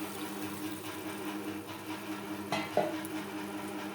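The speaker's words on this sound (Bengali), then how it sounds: "মশলা ও আলুর সাথে মোচা বেশ ভালো করে মিক্সড করে দেব।" Banana flower being stirred with spices and potatoes in a pan for a vegetarian mochar ghonto, a continuous low scraping and sizzling bed with a couple of louder scrapes near the end; no voices.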